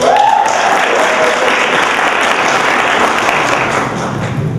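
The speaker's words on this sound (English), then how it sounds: "let's give him a round of applause" Steady, loud applause from an audience at a Jackson State University event, sustained clapping filling the room for several seconds with a faint call near the start.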